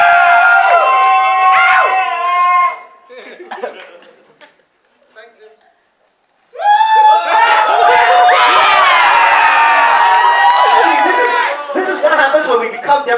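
A crowd at a cosplay competition during a Ghost in the Shell 2017 premiere fan event cheers, laughs and shouts in loud bursts, dips to near quiet, then surges again into sustained cheering.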